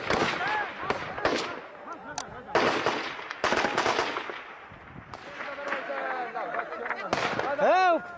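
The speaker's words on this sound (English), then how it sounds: "There's the muffled sound of machine guns, the ground shaking." Muffled machine gun fire in a fight at the Qala-i-Jangi fortress in Afghanistan, with repeated bursts and crackling shots at a distance, mixed with voices and scattered sharper bangs through the scene.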